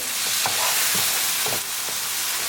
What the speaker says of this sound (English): I'm going to bring tomato, mix it well